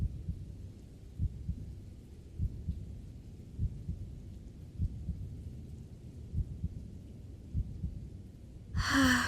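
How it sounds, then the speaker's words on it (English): A slow, steady heartbeat thumps faintly and close, its soft regular beats repeating for several seconds before a brief burst of noise at the end. "Hearing your heartbeat"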